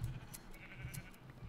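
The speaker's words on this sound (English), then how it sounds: "I just wanna shear all of these sheep and see what kind of wool we will get." Sheep in Minecraft bleat while being sheared, several short quiet bleats in quick succession over a soft low background hum.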